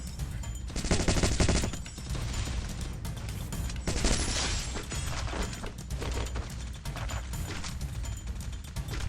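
Rapid gunfire bursts from the Free Fire battle game, dense volleys of shots cracking across the whole stretch with mechanical weapon clatter, loudest in bursts near the start and middle, with no talking.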